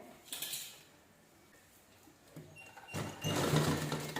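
Sewing machine stitching a square of cloth, a short whirring run near the start, then a quiet pause, then a louder, steadier mechanical stitching burst toward the end, close by.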